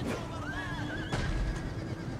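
A horse whinnies in a battle of the strategy game Total War: Attila, a clear rising then wavering neigh lasting about a second over a steady rumbling background, with a faint clatter of hooves.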